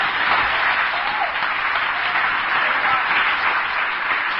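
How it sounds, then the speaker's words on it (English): Applause from a convention audience at a women's gathering, dense and steady clapping filling the room for several seconds without pause. "A cheer for Liz"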